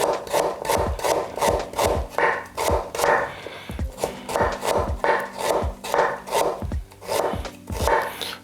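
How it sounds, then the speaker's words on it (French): A knife slices ginger into fine julienne on a wooden cutting board with a quick, steady rhythm of close, crisp chops, about two per second, with no talk. "Déposez toujours votre morceau de gingembre de manière assez stable sur la planche pour bien découper."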